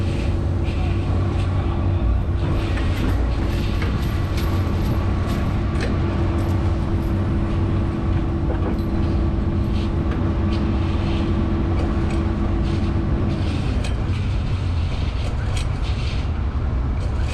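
A vibratory plate compactor pounds down rock bedding in a loud, continuous mechanical drone with a steady low hum that drops away shortly before the end.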